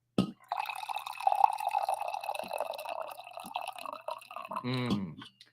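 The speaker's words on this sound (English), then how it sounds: "it is time for me to pour my coffee" Coffee pours steadily into a cup for several seconds, a close, fairly quiet trickle that rises in pitch toward the end as the cup fills, with no talking over it.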